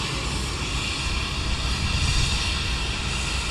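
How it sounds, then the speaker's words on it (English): Jet engine blast roars steadily from an aircraft on the airport apron, a loud continuous broadband rush with no letup, close and dominant throughout with no voices. "A nice bit of jet blast there."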